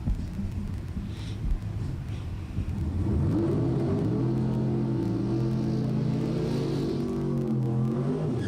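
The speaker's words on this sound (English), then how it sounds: "I hear engines, which means box door car is coming out right now." A box door drag racing car engine at a bracket race rumbles at idle, then revs into a loud, sustained roar with shifting pitch, close by and without speech.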